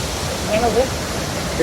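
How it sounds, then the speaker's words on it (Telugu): Continuous broad rushing roar of a waterfall pouring between two hills near Manali, loud and steady, with faint voices in the background. "రెండు కొండల మధ్య నుంచి మొత్తం వాటర్ ఫాల్స్ వచ్చేసి"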